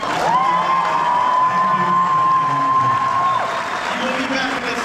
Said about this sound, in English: a huge Texas-sized round of applause.